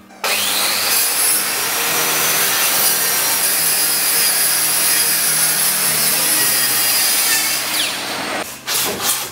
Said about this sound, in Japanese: 次はね、横にね、裂いて幅をね、短くしたいと思います。